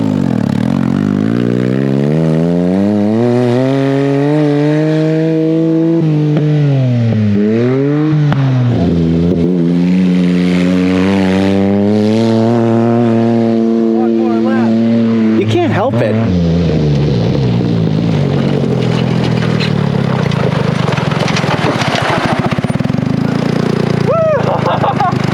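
Off-road buggy engine revving and accelerating under throttle, a loud close drone that rises and falls in pitch with several sweeps, with people talking over it.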